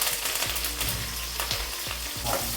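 Onion sizzling in hot oil with garlic, dried red chillies and curry leaves for an Ugadi festival dish, a steady close crackling fry broken by a few scraping stirs.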